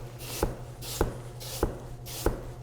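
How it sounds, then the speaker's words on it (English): A knife slices apple pieces in four evenly spaced, crisp cuts, each a short bright crunch followed by a soft scrape, close and clear over a quiet background hum. "I'm just going to slice my apple pieces."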